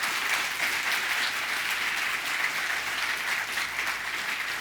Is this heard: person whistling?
no